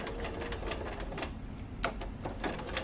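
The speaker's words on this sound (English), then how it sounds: "I'm going to drop my needle in right at the spot where those stitches stop. Back stitch." A sewing machine backstitching through sofa slipcover fabric, a rapid close mechanical chatter of needle strokes with brief pauses and clicks, no talking.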